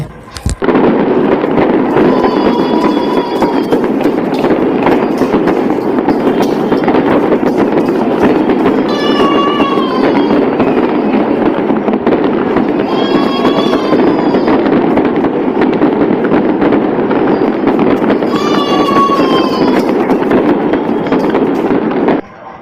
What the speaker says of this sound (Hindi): बहुत सारे पटाखे लाया हूँ आपके लिए।